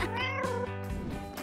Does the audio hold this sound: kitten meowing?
yes